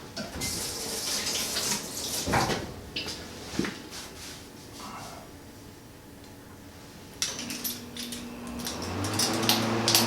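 Hot water from a homebrew setup running through a line into a hot liquor tank, a steady splashing trickle with intermittent clicks and knocks, quiet and close with no one speaking.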